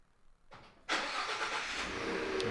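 A Ford F150 truck engine starts by remote start: a brief starter crank, then the engine catches loudly and settles into a steady, close idle with no talk over it.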